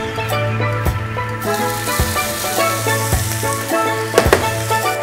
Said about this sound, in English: Sweat off the onions for less than a minute